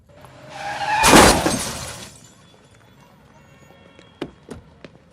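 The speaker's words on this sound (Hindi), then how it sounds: "और दिखाई नहीं देता, गाड़ी ठोक दी मेरी" A car smashes into another car with a sudden loud crunch and shattering, which swells and then fades over about a second. A few sharp knocks and clatters of debris follow.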